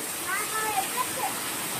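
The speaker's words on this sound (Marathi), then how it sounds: "पाऊस जोरात आहे" Heavy rain falls outdoors in the Konkan countryside, a constant broad wash of close, loud rainfall with faint brief sounds over it.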